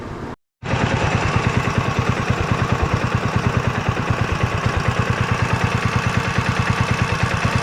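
A small engine on an offroad drag minibike, leaking oil, cuts out briefly then runs at a steady loud idle with a fast, even chugging pulse, close up.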